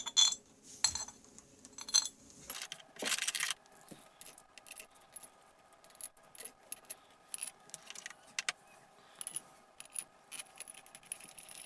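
Steel cylinder head bolts for a Polaris XLT snowmobile clink and jangle as they are handled and dropped on a workbench, producing quiet scattered metallic taps and chinks at close range with pauses between.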